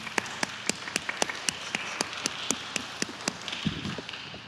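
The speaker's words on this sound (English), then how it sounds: "can y'all help me give Reverend Dr. JJ a round of applause one more time?" A small church audience claps in a sermon talk-back session, with distinct, fairly regular individual claps sounding close and moderately loud and thinning out toward the end.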